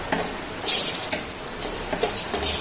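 Raisins, cashews and two cardamom pods roasting in hot ghee for semiya kesari give a close, steady sizzle broken by brisk bursts of stirring and scraping in the pan.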